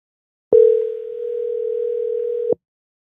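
A steady telephone dial tone sounds on a podcast call switchboard, one unbroken tone about two seconds long that starts and stops sharply, loud and clear against silence.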